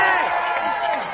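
A crowd cheers and shouts at an ice climbing World Cup lead semifinal in Longmont, USA, a loud sustained roar with a commentator talking over it.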